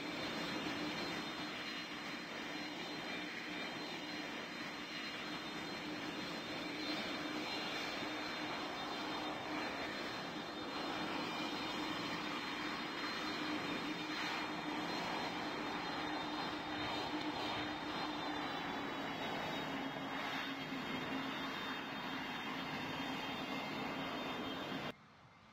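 Jet engines of an airliner in the Roblox flight game PTFS spool up, a loud, steady, even roar with a thin high whine on top that holds for about 25 seconds, alone, before cutting off abruptly at the end.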